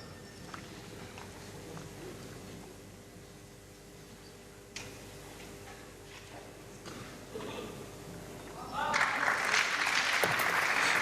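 During a pétanque match, applause from a neighbouring court swells near the end as a burst of clapping at moderate distance, after quiet crowd murmur, scattered clicks and a sharp knock.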